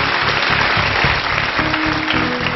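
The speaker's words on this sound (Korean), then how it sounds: "감사의 박수 한번 드릴까요?" Studio audience applause at a Korean lecture show, a steady dense wash of clapping held at even loudness throughout.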